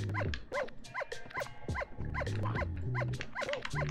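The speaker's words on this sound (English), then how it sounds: "it's the dog." Dog vocalizing in a collab game playthrough, repeated short yelps and barks in rapid succession, close and loud, with a low rumbling tone underneath.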